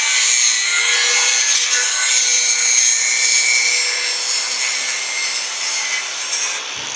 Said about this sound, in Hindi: चैन को हम क्या करते हैं ग्राइंडर से काट देते हैं।